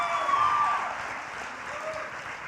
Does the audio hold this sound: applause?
yes